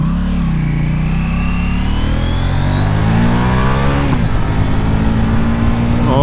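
A 2019 KTM Duke 790 parallel-twin motorcycle engine pulls hard under acceleration, its loud, steady roar climbing in pitch through the revs, heard up close without talk.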